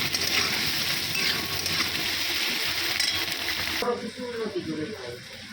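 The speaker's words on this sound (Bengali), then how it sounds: "পেঁয়াজ আর রসুন ভাজা বসাইছে," Onion and garlic frying in a pan for chicken cooked in yogurt, a steady close sizzle that cuts off abruptly near the end, followed by quieter clinks and handling sounds.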